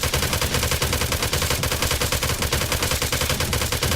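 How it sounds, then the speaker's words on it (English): Thompson submachine gun firing steadily at a roof in the survival game Rust, a dense, continuous rattle of rapid shots lasting the whole stretch at a constant, loud level. "even if I shoot it with a Thompson right now"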